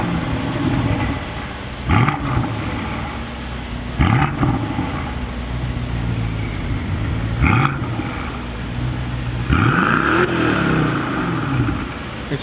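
A BMW with a twin-turbo hot-vee engine gurgles through its exhaust, settling into a low burbling idle broken by four sharp revs, roughly every two to three seconds, close and loud with no speech.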